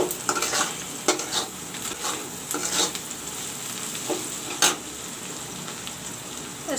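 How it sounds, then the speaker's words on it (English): Onions frying with bay leaves in a pan for mutton curry, a continuous sizzle broken by repeated scraping stirs and utensil clinks against the metal, close and fairly quiet with no talking. "Let the onion fry."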